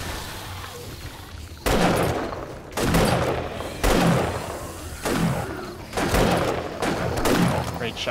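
Heavy gunshots in 7 Days To Die during a nighttime horde, about six loud booming reports spaced roughly a second apart, each followed by a short decaying tail, with a voice speaking briefly between them.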